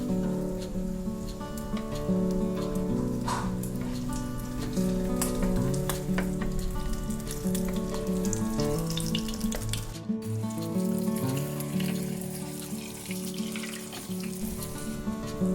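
A crispy shrimp omelette fries in a pan, a steady loud sizzle and bubbling oil running continuously, with a brief break before the frying resumes.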